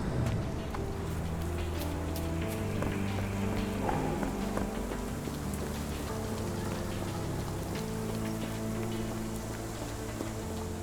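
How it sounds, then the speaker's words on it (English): Steady dreary rain in the Victorian-era detective video game Sherlock Holmes The Awakened, a constant soft hiss of falling drops with faint spatters over a low continuous background drone, no talking. "This dreary rain is making a miserable day even worse."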